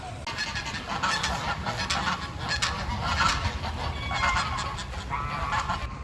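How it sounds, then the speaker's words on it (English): Geese honk repeatedly in a noisy, overlapping chorus, harsh and loud, with no talking. "Those geese literally are little demons. They sound like possessed monkeys"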